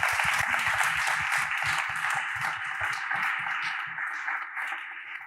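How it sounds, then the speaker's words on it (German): Applause at a startup award ceremony: a hall audience claps steadily and fairly loudly for several seconds, gradually thinning out toward the end. "Applaus bitte."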